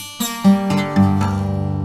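An acoustic guitar, cheap and badly out of tune, strummed a few times, its chords ringing sour and clashing, each strum fading into the next.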